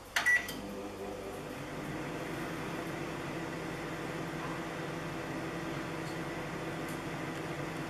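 A microwave oven runs about two meters away, giving a steady, even hum that holds through the whole stretch after a brief click at the start.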